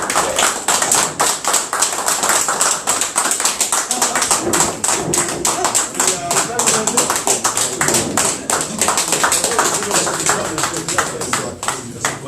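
Sustained applause from an assembly at an extraordinary general meeting of the UMF, many hands clapping densely and steadily for the whole stretch, loud and close, with some talk underneath.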